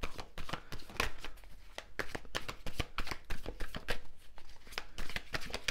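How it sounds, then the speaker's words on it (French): Tarot cards handled and laid down on a table, a close series of soft slaps, shuffles and taps in irregular rhythm, quiet and isolated. "on va remettre une carte ici"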